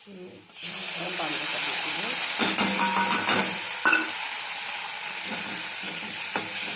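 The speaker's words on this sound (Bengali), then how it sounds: "নাড়াচাড়া করবো তেলটা আলাদা হয় আদাটা থেকে তেল ছাড়ে যতক্ষণ না নাড়বো" Fish head frying with onion, garlic, ginger and tomato paste bursts into a loud sizzle after a brief quiet start, then hisses steadily under repeated stirring clatter.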